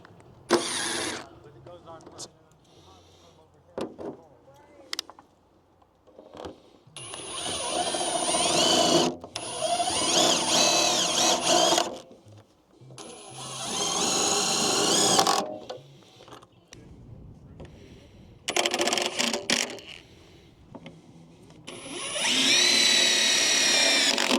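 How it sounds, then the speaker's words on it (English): Power drill with a square bit driving screws into hunting trailer awning mounting parts, whirring in repeated bursts of a few seconds each, separated by pauses and close by, with a person talking between the bursts. "So just use a square bit and it'll fit right in there."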